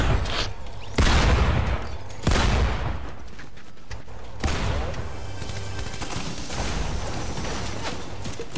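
Sharp bursts of gunfire from a Fortnite match crack out in several separate volleys, loud and close, each trailing into a short rumbling decay.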